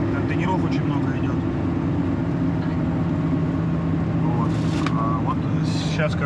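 Steady roar of highway traffic with container trucks and motorcycles on the road to Sihanoukville, a continuous close rumble with passing vehicles and brief higher whines, while people talk over it.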